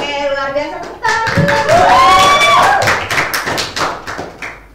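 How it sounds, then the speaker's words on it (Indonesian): Students in a classroom clap their hands in quick bursts, starting rhythmically and growing into a dense patter, with voices calling and chanting over it throughout. "Tepuk tangan."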